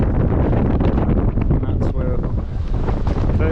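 Strong, gusty wind roars across the microphone on an exposed hilltop in the fells near Sour Howes, a loud continuous buffeting with no break.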